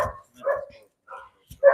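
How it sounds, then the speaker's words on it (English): A dog barks at goats near a stable paddock, giving a few short, separate barks with brief pauses between them, the last one sharper and louder, heard fairly close with no talking. "What is he barking at?"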